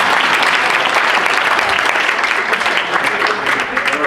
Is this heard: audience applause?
yes